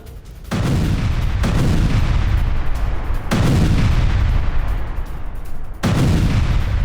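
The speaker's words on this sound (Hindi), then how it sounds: "अवदीविका में तीसरी बार बमबारी की गई है" Russian air strike bombardment on Avdiivka, in news footage: loud, heavy rumbling blasts arrive in three or four long sustained bursts, each starting abruptly and rolling on for about two seconds, with no voices.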